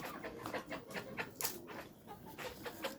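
Hens clucking and squabbling close by in a coop shared with pigeons, a steady run of short, busy calls with a few sharper squawks and no talk.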